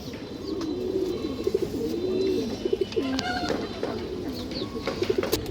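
Pigeons coo repeatedly in a home loft, their rolling, throaty calls overlapping close by over a steady background hum, with an occasional higher chirp.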